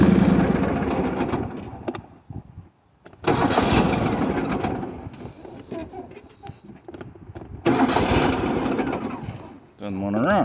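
A lawn mower engine cranks in two loud bursts separated by a pause, turning over without catching, with someone talking between the attempts.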